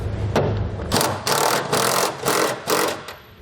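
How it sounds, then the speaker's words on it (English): A 3/4 inch socket ratcheting tight on bed rail hardware of a 2013 Ram 2500 truck, producing a close, loud series of quick rhythmic clicking bursts with no talk. "Next, we're going to come back with a 3/4 inch socket. We're going to tighten all of our hardware."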